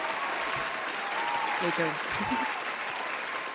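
A studio audience claps and cheers in a sustained wash of applause, with a speaker's voice briefly heard over it.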